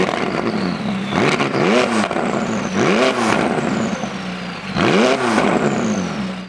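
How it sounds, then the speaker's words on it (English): 2019 McLaren 600LT with top-mounted exhaust revving hard three times, each sharp rising and falling blip standing out loud and close over a steady idle burble. "This comes standard with a backup camera and 4 parking sensors with the top mounted exhaust, which sounds incredible."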